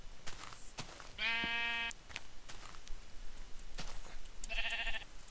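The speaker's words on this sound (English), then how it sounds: "Hey, sheep." Sheep in the video game Minecraft bleat twice, two short buzzy calls a few seconds apart, heard clearly over quiet game ambience with scattered soft clicks.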